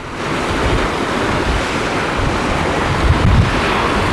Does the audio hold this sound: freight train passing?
no